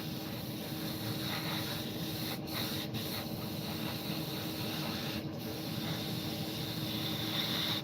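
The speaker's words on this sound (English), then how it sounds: "So I'm going to spray another coat just there." A steady, fine hiss of an airbrush spraying a paint coat onto an A-4M scale model runs throughout, even and continuous with a few brief breaks, close to the listener and without speech.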